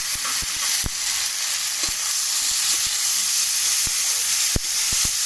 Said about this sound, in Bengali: দেখেছো মূলো শাক খুব সুন্দর জিরি জিরি করে কাটা হয়েছে, এখানে দিয়ে দেওয়া হলো